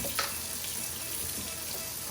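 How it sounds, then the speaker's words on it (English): Water poured into a hot cast iron pan used for a venison scramble hisses and sizzles in a brief, steady wash of noise at moderate loudness. "Add a little bit of water"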